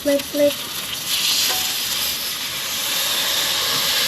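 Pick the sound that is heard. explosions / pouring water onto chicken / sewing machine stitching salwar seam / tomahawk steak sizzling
tomahawk steak sizzling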